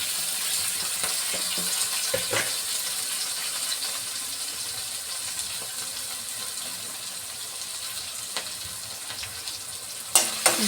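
Bitter gourd fries in plenty of oil with a steady, moderate sizzling hiss, broken by occasional clicks and a few sharper knocks near the end.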